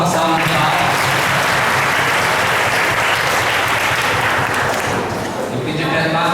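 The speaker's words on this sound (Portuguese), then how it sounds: "A todos da liturgia, uma salve de palmas." Loud, sustained clapping from a crowd at a Corpus Christi procession in Batalha, Piauí, continuing evenly throughout with a voice speaking over it.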